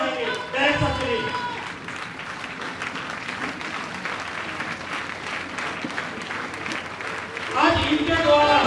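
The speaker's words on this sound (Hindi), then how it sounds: "आप सब खड़े हो जाएंगे, इनके जोरदार ताली बजाएंगे" A large network-marketing audience claps loudly and steadily as people stand, a dense continuous wall of applause with some voices mixed in, swelling again near the end.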